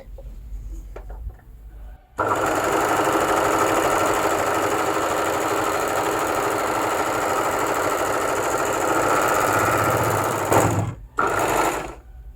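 A Baby Lock Victory overlocker runs at its widest stitch width and longest stitch length, a loud continuous whirring hum for about eight seconds, starting abruptly and ending with a couple of short bursts, close up and without speech.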